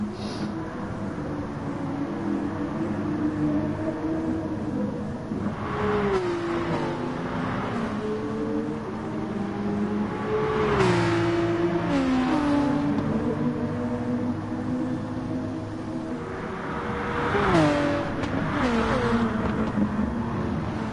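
Racing car engine in a racing game on the A1 Ring, revving and shifting with rising and falling whines, several climbing pulls and gear changes over a constant loud drone, no voice over it.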